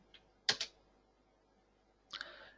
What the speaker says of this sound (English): I will type in the label